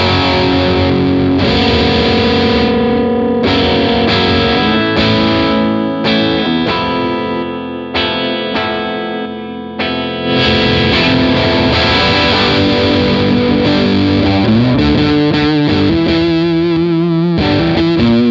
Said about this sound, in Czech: Pojďme si poslechnout, jak se ta kytara chová u zkresleného kanálu.